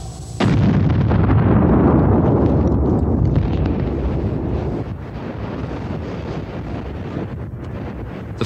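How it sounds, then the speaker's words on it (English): Explosives go off to clear vegetation for a wildfire break, one sharp, loud blast followed by a long roaring rumble and wind buffeting the microphone, outdoors in a forest. "Ground crews experiment with explosives to clear the vegetation quickly."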